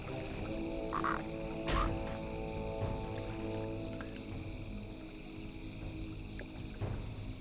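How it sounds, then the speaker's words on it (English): A huge toad in World of Warcraft Classic croaks repeatedly in low, rough bursts over a steady watery game ambience, moderately close, with no talk. "it says huge toad. It must be a cane toad."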